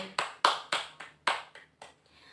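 A classroom group claps together to applaud a student group's presentation in a teaching practice lesson, giving about eight sharp, fairly rhythmic claps that thin out toward the end, with no talking.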